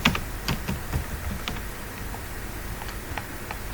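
Quick irregular clicks of keys being tapped on a computer keyboard while working in CorelDRAW, close and fairly quiet, several spaced taps early then softer scattered presses, no voices.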